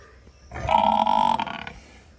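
A young female calf about one month old on a village dairy farm in Sarhali gives one close, drawn-out moo lasting about a second, with quiet farmyard ambience before and after.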